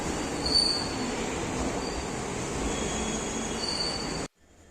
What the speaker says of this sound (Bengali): আমরা ফাইনালি এসে পৌঁছালাম নিউ জলপাইগুড়ি রেল স্টেশনে